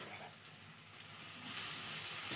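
Pieces frying in oil and ghee in a covered pan, a steady soft sizzle that grows slightly stronger, faint and close, with no talk over it.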